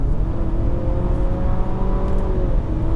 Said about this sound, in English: The engine picks up nicely and actually has a pretty aggressive induction note to it, a nice metallic thrum.